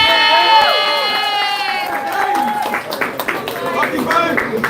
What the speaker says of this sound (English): Let's cheer him on, folks.